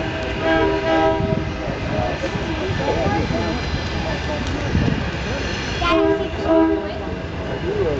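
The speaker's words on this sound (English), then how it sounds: "42 pleases the crowd with a few toots of the horn" Amtrak 42 passenger train passing on the Norfolk Southern line, giving a few loud toots of its horn over steady rail rumble and clatter, with people talking nearby.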